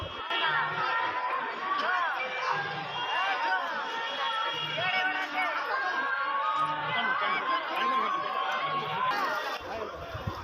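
Busy crush of worshippers at the Baladevjew temple in Kendrapara on Sudasha Vrata, overlapping chatter and shuffling from many people close by, steady and loud throughout.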